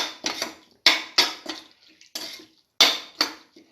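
Soy chunk mixture with curry leaves being stirred in a pan, a series of about seven loud, close metallic scrapes and clinks of a spoon against the pan in an uneven rhythm.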